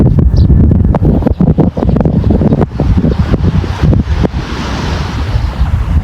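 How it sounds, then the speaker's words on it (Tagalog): Ocean waves and wind at a calm shore: strong wind buffets the microphone in loud gusts while surf rolls and hisses underneath, easing toward the end. "sabi ni Idol Heat, kalmado pa yung dagat dito pero may times daw na sobrang lakas ng alon dito"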